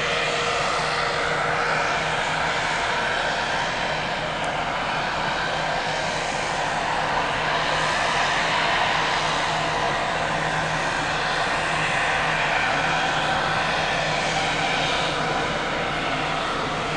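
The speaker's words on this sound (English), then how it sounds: "One of the main ways of getting around here in Alaska is by seaplane." A seaplane's propeller engine drones steadily and loudly in Alaska, a continuous close roar holding an even pitch throughout with no voices.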